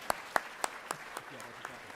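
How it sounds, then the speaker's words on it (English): About seven sparse, distinct hand claps at an 8th grade promotion night, evenly spaced at first, then slowing and fading away over two seconds. "Yeah, that's clapping."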